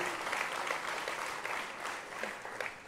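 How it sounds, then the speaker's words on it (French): A crowd at a mayor's New Year address in Gouesnou claps steadily, a dense, even wash of many hands for the whole stretch, with scattered louder claps rising out of it. "je pense que vous méritez des applaudissements"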